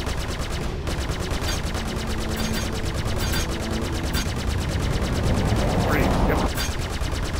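Spaceship weapons fire in Star Citizen during a Vanduul Swarm fight, a dense, continuous rattle of rapid shots that runs the whole time under a steady bed of engine and combat noise, with a louder swell near the end.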